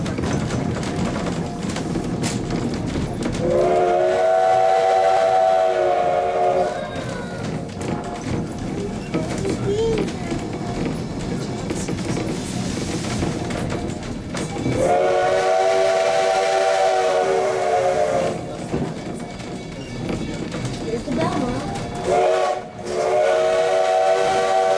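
Steam locomotive whistle on an 1880s-style tourist train near Hill City, South Dakota, sounding three long harmonic blasts over continuous rumbling, hissing train noise, with talk in between.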